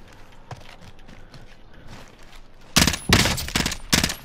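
Video game gunfire while shooting an enemy, a few seconds of quiet ambience and light clicks followed by several loud, close bursts of rapid shots in quick succession.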